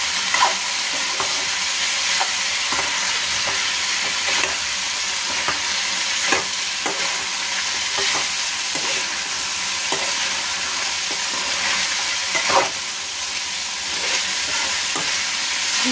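String beans fry in a pan with a constant loud sizzle while a utensil scrapes and stirs them in repeated, evenly spaced strokes close up.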